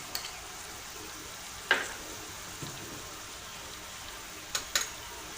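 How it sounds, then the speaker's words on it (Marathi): Vegetables are stirred in a pan with soy sauce, Schezwan sauce and tomato sauce. A soft, steady sizzle runs underneath, with a few sharp scrapes and clatters of the spoon against the pan. "चवीनुसार मीठ चांगल्या प्रकारे आपण मिक्स करून घेऊया सगळ्या भाज्यांना सॉस आपला लागला पाहिजे"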